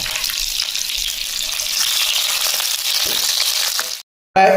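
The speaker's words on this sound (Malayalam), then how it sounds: "എന്നിട്ട് നമ്മൾ കുറച്ച് കറിവേപ്പില കൂടി അതിലേക്ക് ചേർത്ത് കൊടുക്കുക." Red chillies and curry leaves crackle and sizzle in hot oil for a tempering, with steady, loud frying and stirring noise, then an abrupt cut to silence and a short final burst.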